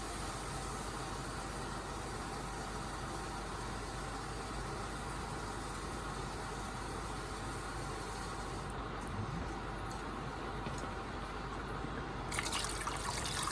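Water pours steadily into a pot of beef jambalaya, a continuous splashing fill with dribbling and trickling texture that carries on for more than ten seconds and turns slightly brighter near the end.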